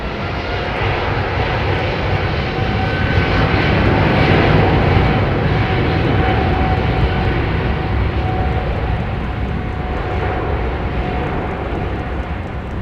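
Jet engines on a Boeing 777 spool up at London Heathrow, a loud, sustained broadband roar with a faint whine, swelling slightly midway and holding steady, with no talk.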